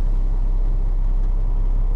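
A truck with an aluminium American-style refrigerated trailer pulls away across a roadside parking lot, a loud, steady low engine rumble with no talk over it.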